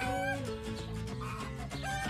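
Chickens clucking in a henhouse, with hens sitting on nests laying eggs, in a farm setting with toys: busy, close fowl calls and clucks that overlap steadily throughout.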